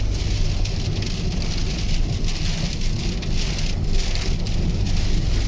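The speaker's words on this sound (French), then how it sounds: "Aujourd'hui il pleut beaucoup." Heavy rain pours steadily, a dense continuous roar of drops drumming on surfaces with no voices.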